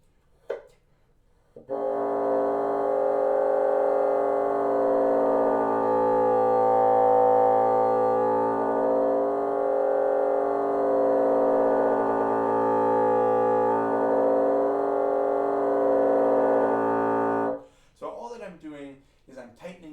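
A sustained, buzzing multiphonic on a wind instrument holds steady for most of the clip, its tone rattling and dissonant, the rattle shaped by embouchure pressure, then cuts off into a brief breathy sound.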